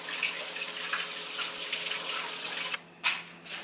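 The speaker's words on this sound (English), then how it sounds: "Here we go with the faucet." A kitchen faucet runs hard in a steady, powerful broadband rush that fills the sink, briefly cut off near the end before gushing again in short bursts.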